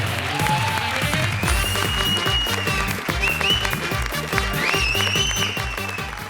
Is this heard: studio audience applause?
yes